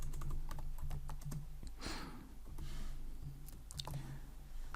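Clicking keystrokes on a computer keyboard while code is entered in a Kotlin programming session, a quick irregular patter of close taps over a low steady hum, with no talking.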